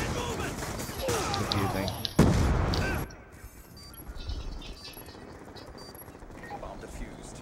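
Rapid automatic gunfire in Black Ops 2 crackles in bursts during the first three seconds before cutting off, leaving quieter game noise and a short spoken word.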